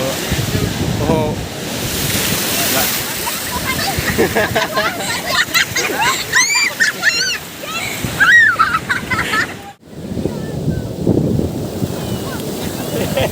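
Sea waves on the shore at Devgad beach on the Konkan coast: steady surf washes and rumbles beneath gusty wind buffeting the microphone, while several people chatter and call out nearby.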